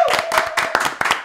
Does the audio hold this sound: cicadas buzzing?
no